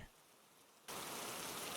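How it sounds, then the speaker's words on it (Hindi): Steady rain hiss begins abruptly partway through, loud and continuous, after a quieter stretch of faint background noise. "रात भर बारिश होती रहती है।"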